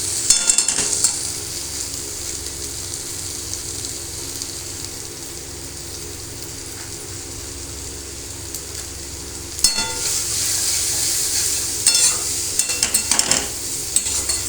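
Vegetables sizzle in oil in a pan while being stirred, a steady close hiss broken by scraping strokes and bursts of louder crackle in the second half.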